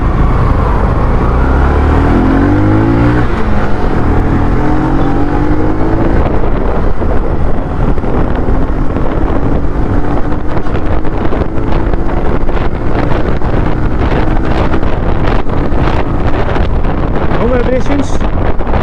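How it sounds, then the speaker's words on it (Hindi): Bajaj CT110X motorcycle, a 2021 model, accelerating hard on a test ride through the gears, engine pitch climbing under heavy wind rush, with a rider talking over it. "तो एक बार बाइक को थोड़ा भगा के देखते हैं।"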